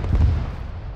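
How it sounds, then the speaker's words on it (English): A heavy BMP cannon boom in a military combat game, a single deep, rumbling blast that decays over about a second. "Oh, fucking BMP shooting. Nah, it's got a cannon on it."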